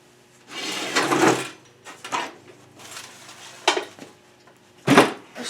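An old Sears Craftsman 7.5 inch saw cuts a propeller hub for a turkey whirligig in several short, rasping bursts separated by pauses, close and fairly loud.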